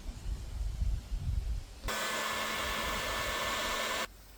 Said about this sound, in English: And I'll heat shrink them, so they'll be good.